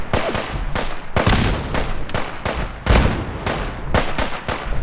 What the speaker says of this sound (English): Who's shooting where?